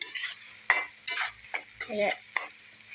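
Paneer is stirred and sautéed with coriander, cumin and garam masala in a pan, heard as intermittent scraping and clinking of a spatula against metal over a faint sizzle, close and fairly quiet, no talking.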